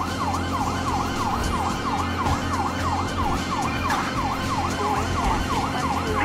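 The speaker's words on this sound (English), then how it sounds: "I don't think they can hear the sirens." Police sirens in Grand Theft Auto V wail in a fast repeating up-and-down pattern, loud and steady, over a low engine rumble.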